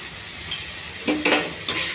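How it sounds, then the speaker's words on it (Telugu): Ginger-garlic paste and spices fry in a pan for a jackfruit curry, a soft steady sizzle broken by a few quick stirring scrapes near the end. "బాగా వేగించాలి."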